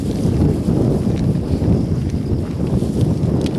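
Wind gusting outdoors during a total eclipse in Australia, a dense, continuous low buffeting roar against the microphone, loud and steady with no clear pauses.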